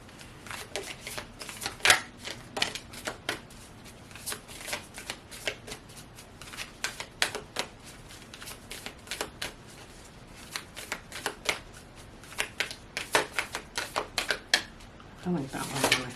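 Moonology oracle cards being shuffled by hand up close, repeated crisp riffling bursts and flutters spread across the whole stretch, with a voice speaking at times.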